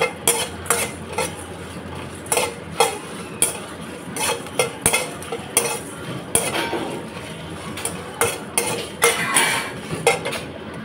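Crab masala dry roasting on low heat in a pan, stirred with a metal spoon that clanks and scrapes in frequent rhythmic strikes over a faint frying hiss.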